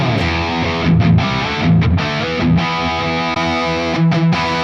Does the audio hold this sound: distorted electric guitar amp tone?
yes